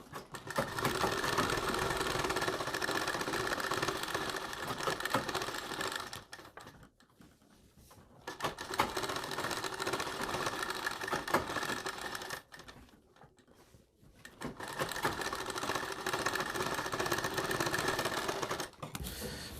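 A sewing machine stitches blouse back-neck fabric alongside the piping in three rapid, buzzing runs, each separated by a brief stop.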